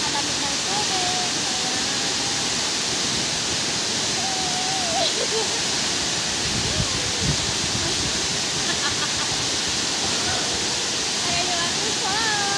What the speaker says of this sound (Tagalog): Kaya ngayon, papakita sa inyo yung ating falls na napakaganda at napakalamig ng tubig.